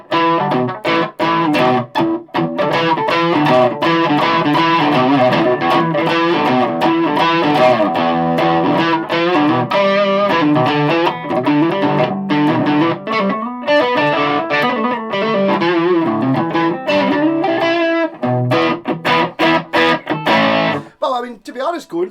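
An electric guitar plays through a Funny Little Boxes Skeleton Key distortion pedal, thick and crunchy chords ringing on steadily and loudly, then cutting off near the end.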